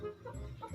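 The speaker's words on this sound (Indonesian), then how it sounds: "Terus ayam di mandian" A chicken clucking while being bathed, short agitated clucks close to the mic in a brief burst, with no talking heard.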